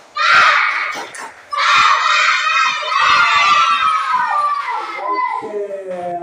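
A class of schoolchildren chants and shouts together in a rhythmic clapping cheer, loud and close, with sharp hand claps punctuating their voices throughout.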